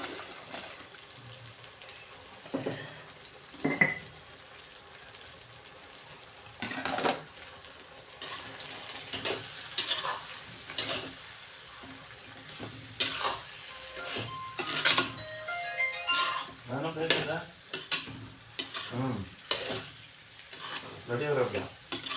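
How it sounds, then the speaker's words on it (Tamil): Masala and salt being stirred in a cooking pan: intermittent scraping strokes and light metallic clinks with a faint sizzle, close by, with some talk. "இது வந்து மசாலோட கொஞ்சம் உப்பு போட்டு கிண்டிடலாம்"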